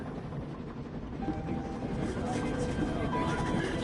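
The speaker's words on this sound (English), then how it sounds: "I'm on a train heading out of Germany, where I write to you now" Steady rumbling of a train running on rails heading out of Germany, a continuous low clatter heard from inside the carriage, with a voice talking over it.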